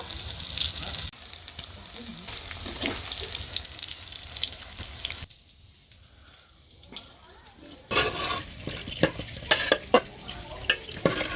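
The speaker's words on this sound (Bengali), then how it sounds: "বাকি সবগুলো একই রকম ভাবে ভেজে নেব।" Moong puli pitha, stuffed lentil dumplings, fry in hot oil with a steady sizzle, broken by a quiet pause and then stirring and clattering.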